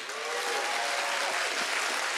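A church congregation at a Bethel Church service applauds together, a broad, continuous wash of clapping filling the sanctuary, steady and loud with faint cheers and voices mixed in.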